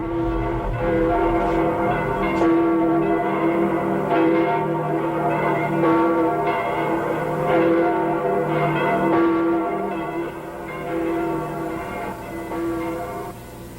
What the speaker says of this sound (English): What do the bells mean?